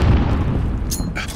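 Frag grenade blast in Call of Duty Modern Warfare multiplayer, a loud, dense low boom that rumbles throughout, with sharp bursts of debris crackle near the end.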